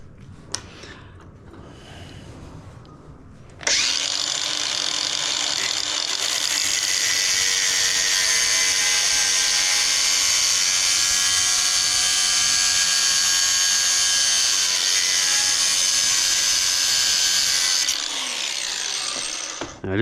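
A power tool grinds through a stainless steel drive cable for an RC boat, starting abruptly after a quiet stretch with faint handling noises, then holding a loud, harsh, steady whine for about fourteen seconds before cutting off.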